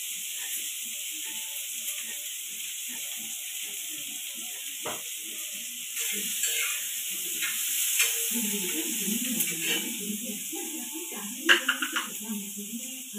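Spices sizzle in hot oil for a Marathi-style tempering, giving a faint steady crackle with occasional clinks of a utensil while someone talks over it.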